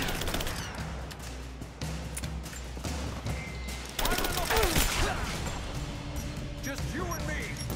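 Rapid video-game gunfire in Rise of the Tomb Raider during a firefight in the mines, with clustered shots and bursts over a low ambient rumble. A player talks intermittently over the shooting.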